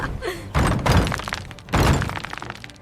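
A door handle breaks off: two loud, close impacts, each a heavy thunk with a cracking, breaking edge, separated by about a second of quieter rattling.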